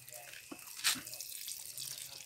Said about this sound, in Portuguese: Agora só me resta aqui é eu jogar nele um pouquinho de água.